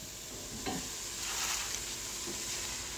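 Spinach being stirred into vegetables frying in a pan for a vegetable lasagna, giving a steady soft sizzle with a few brief scraping stir sounds, close and alone.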